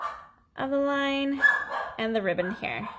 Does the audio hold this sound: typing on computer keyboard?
no